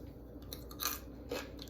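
Crunchy golden baked potato wedges being bitten and chewed up close, a few quiet crisp crunches in a short, soft burst with no speech.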